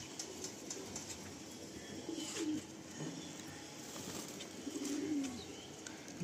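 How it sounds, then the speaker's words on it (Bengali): Madrasi pigeons coo at a loft in Kolkata: a couple of soft, gurgling phrases rise out of a constant hiss, spaced a few seconds apart, moderately close and fairly quiet, with no talking. "খুব ছোট্ট পায়রাটা, শর্ট সাইজ পায়রা"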